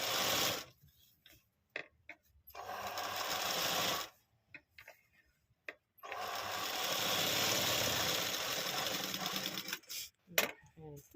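A sewing machine runs in short bursts of rapid mechanical whirring as a readymade top is stitched for an alteration. Quiet pauses separate the bursts, and a voice is heard softly between them.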